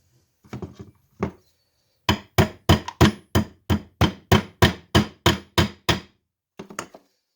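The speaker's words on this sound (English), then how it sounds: "compress that, and then hammer the pin through" A few scattered knocks, then a steady run of about fifteen loud, evenly spaced hammer blows driving a pin through a Cooey 84 rifle's extractor and ejector assembly on plywood, close by, ending with a couple of lighter taps.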